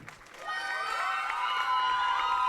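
A lively crowd cheers and shouts with high, excited voices, swelling from a brief lull into a sustained, loud roar with little clapping.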